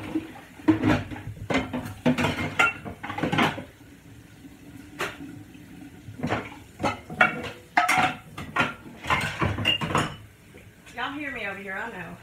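Dishes, pots and cutlery clatter and clank in a home kitchen while meatloaf is prepared, close irregular knocks and scrapes with brief running water, and a person talks in between.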